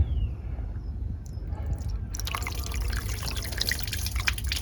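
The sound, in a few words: water poured from a jug onto a car to test for leaks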